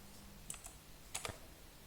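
Quick, faint keystrokes on a computer keyboard, a couple of light taps followed by a tight cluster of clicks, in a quiet room.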